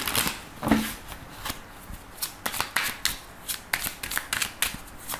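Oracle cards are shuffled by hand for a card reading. The shuffling makes soft, papery riffles and quick taps in an irregular rhythm, close and quiet, with no talking.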